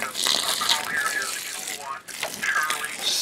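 Water splashes and trickles steadily as it is poured onto a Worm Inn worm composting bin, with a brief pause midway before the pour resumes close to the listener.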